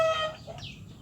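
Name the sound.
chicken recovering from snoring respiratory illness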